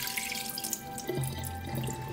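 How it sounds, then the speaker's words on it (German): Water poured off rice while washing it in a kitchen, a short splashing run of liquid from the pot into the sink, close and moderately loud, with no voices. "Und zwar jetzt einmal Wasser raus."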